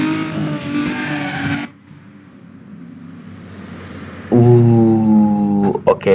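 A Toyota Corolla AE86 engine revs hard in the racing video game Need For Speed Underground 2: a loud, buzzy engine note, a brief drop to a quieter drone, then another surging rev with sharp gear-shift cuts near the end.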